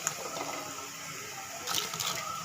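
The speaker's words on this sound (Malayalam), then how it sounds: "വെള്ളം തളിച്ചിട്ടുണ്ട് നമുക്ക് ചീനി വാരിയിടാം" Pieces of tapioca tipped into a pot of water for Kerala-style tapioca with coconut milk, making a steady wet rushing sound with a brief louder splashing burst near the end, close by and without talk.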